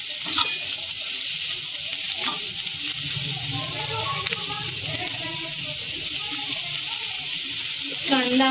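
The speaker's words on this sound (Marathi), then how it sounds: "कांदा आपण गुलाबी रंगावर भाजणार आहोत।" Chopped onion sizzles in a hot pan for a Marathwada khandavdi bhaji curry, frying toward pink. A continuous bright crackle runs throughout, with soft stirring scrapes and occasional faint sounds in the background.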